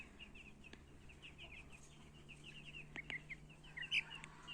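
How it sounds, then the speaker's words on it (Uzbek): Grey young chicken clucking in short, soft bursts at steady distance, with a few sharper peeps and a brief louder call near the end over a quiet farmyard hum. "Mana bu ikkinchi jo'ja."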